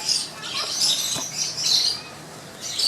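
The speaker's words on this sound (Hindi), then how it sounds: "कबूतर काफ़ी परेशान हो रहा है, हाथ में कभी मैंने पकड़ा नहीं है" Agitated pigeon squawks and flustered chirps come in bursts as it struggles in a hand, with faint rustling and wing flutters, close up.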